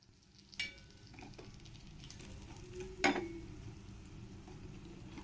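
Squid frying in a pan, a soft continuous sizzle with two sharp clatters of a utensil against the pan, quiet and close with no talking.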